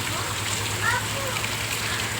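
Continuous heavy rain falls in a village, a thick, uniform roar of water holding steady throughout with a faint low hum underneath.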